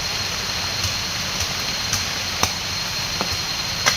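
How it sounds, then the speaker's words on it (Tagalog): Steady rain pouring over an outdoor garden plot where posts are being set for string beans, a dense continuous hiss with occasional sharper drip and tap impacts scattered throughout. "Ayan si ulan, lumalakas na ang ulan."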